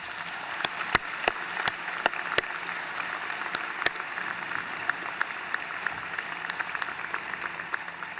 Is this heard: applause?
yes